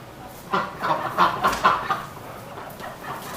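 Ducks give a run of about half a dozen quick, rhythmic calls close by over steady background noise, then fall quiet.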